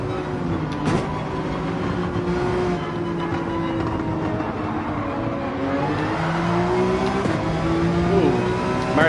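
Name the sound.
race car tires squealing in the video game Gran Turismo 7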